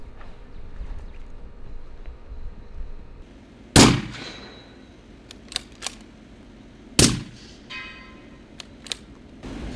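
Sharp shots from a bolt-action rifle with a plain red dot sight, two loud close cracks a few seconds apart with fainter clicks and knocks in between.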